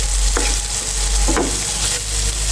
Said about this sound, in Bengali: এখন আমি পেঁয়াজের সাথে একটু নেড়ে চেড়ে